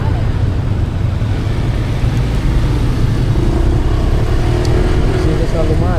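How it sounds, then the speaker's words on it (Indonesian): Dense street traffic in a jam, cars and motorcycles rumbling and revving close by at night, with a continuous roar and talk over it. "Di sini selalu macet guys."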